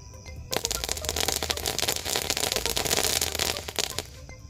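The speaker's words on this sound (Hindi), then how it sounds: "गाइस अभी लग चुका है चिटपुट वाले पटाखे के अंदर आग और अभी देखते हैं ये कैसे चलता है।" Chitput firecracker combo set off inside a bottle during Diwali testing: a dense, continuous burst of rapid crackling pops starting abruptly after a short pause and running loudly for about four seconds before dying away.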